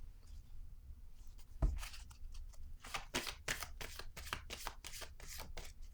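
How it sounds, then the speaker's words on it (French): Tarot cards being shuffled, a dense run of crisp riffling flicks and slaps close by, with a card drawn amid the soft handling noises. "Je vais piger une autre carte."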